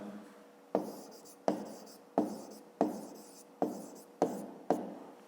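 Chalk or pen writing out a fifth-grade maths exercise, heard as seven sharp, evenly spaced taps and strokes, each fading quickly, close and alone.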